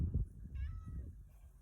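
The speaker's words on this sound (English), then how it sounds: "I need the music to stop so you can hear this kitty." A cat meows a couple of short, soft times nearby, close to the mic, over a low background murmur in an otherwise quiet room.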